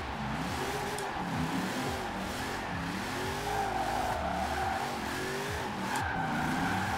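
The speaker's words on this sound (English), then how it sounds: "Let's try to slide this thing." A police car slides sideways in Forza Horizon 4, its engine droning in wavering pitch sweeps under a continuous tire squeal, steady and fairly quiet with no talking.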